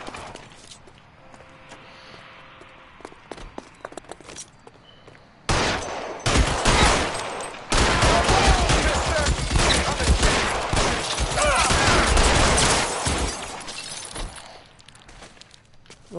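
Shotgun fire in a video game firefight, loud dense bursts of blasts with shattering debris after a quieter stretch, continuing for several seconds.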